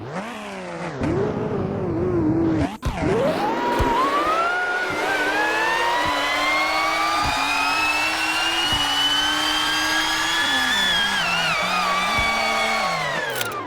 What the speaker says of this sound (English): the transmission whine is just so loud and it overpowers literally all the sounds that the car makes